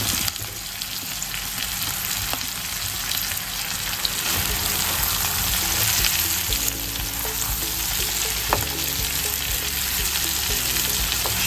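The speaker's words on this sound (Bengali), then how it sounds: "এখন যেটা আমার মেইন ইনগ্রেডিয়েন্ট, আলু সিদ্ধ করে রাখাটা দিয়ে দেব" Boiled potatoes tumble into spices frying in a pan over low to medium heat for a potato curry, giving a steady close sizzle with occasional stirring scrapes throughout.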